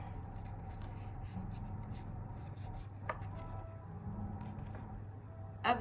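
Paper is folded by hand into a Christmas ball ornament, giving soft, faint rustles and creases in short bursts with a crisp crinkle near the end, in a quiet room.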